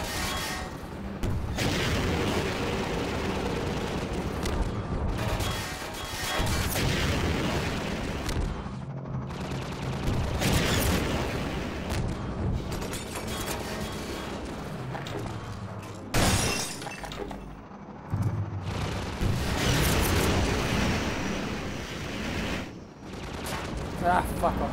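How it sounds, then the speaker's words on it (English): Gunship attack in the Half-Life 2 video game, with dense, loud crashing bursts of gunfire and shattering impacts running almost continuously, briefly dropping out near the middle before resuming. "Oh, gunship."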